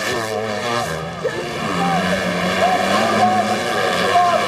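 Motocross bikes in a 2015 FIM World Motocross MX2 race at Valkenswaard, engines revving in loud, high-pitched whines that rise and fall as riders pass, with a race commentator faintly audible.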